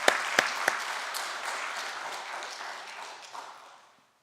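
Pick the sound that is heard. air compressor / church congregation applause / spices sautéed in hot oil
church congregation applause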